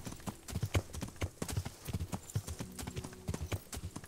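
Horse hooves clip-clop steadily on the ground while riding in the medieval video game Kingdom Come: Deliverance, a brisk, even trotting rhythm close up with faint gear creaks, no talk.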